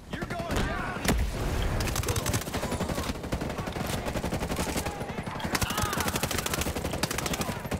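Rapid automatic gunfire from Ghost Recon Breakpoint, dense bursts of shots rattling nearly continuously with a few heavier blasts, loud and close, with voices talking over the action.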